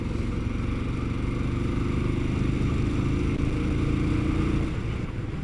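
A motorcycle engine runs loud and close with a steady throaty drone, holding high revs before easing off near the end.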